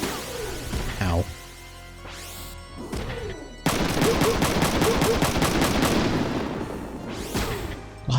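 Mech gunfire in a video game: a dense, sustained stretch of rapid shots with crashing impacts, preceded by scattered mechanical whirs and thuds, loud and close.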